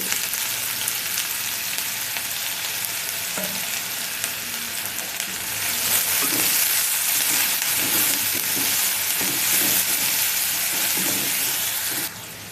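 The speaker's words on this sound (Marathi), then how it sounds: "कांदा आपला बऱ्यापैकी फ्राय झाला आहे" Sliced onions fry with cumin and mustard seeds in hot oil in a pan, a loud continuous sizzle that swells halfway through and runs on without talk.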